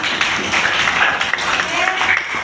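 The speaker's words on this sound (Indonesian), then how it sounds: "Kasih tepuk tangannya." Classroom applause for a student's presentation on cubes and squares, steady dense clapping filling the whole stretch with a few sharper individual claps, fairly close and moderately loud.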